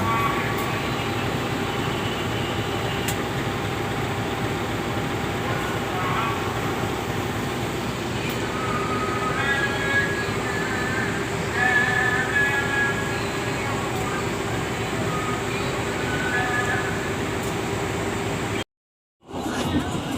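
Inside the Matarmaja passenger train in Indonesia, a steady rumble and rattle of the carriage in motion continues throughout, with faint metallic squeals and brief background voices, then a sudden short cutout near the end.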